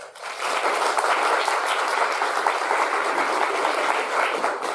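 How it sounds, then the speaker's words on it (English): Steady audience applause at a talk, a full even wash of many hands clapping that swells in quickly and holds for several seconds. "please give a round of applause to them for being here"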